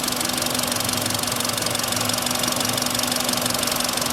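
A hot car engine idles with a rapid, even knocking tick, traced to a spark plug with a loose insulator, running steadily and close up.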